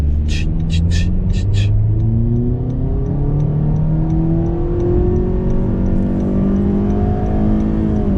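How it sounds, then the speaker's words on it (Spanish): A Honda HR-V Uniq CVT accelerates hard in Sport mode. Its engine tone climbs steadily and loudly up close, and a few quick clicks come at the start. "Pisamos freno, acelerador, le damos un poquito y ¡vámonos!"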